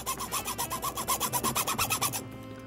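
A mezzotint roulette tool rocked back and forth across a metal printing plate gives a steady rasping scrape, about a dozen rhythmic strokes close up, then stops abruptly.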